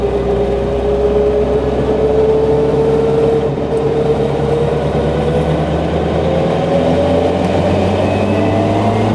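Subaru Impreza WRC rally car driven on a public road at low speed, its engine a steady loud drone with rising and falling harmonic tones as it pulls along, continuous throughout with no talk.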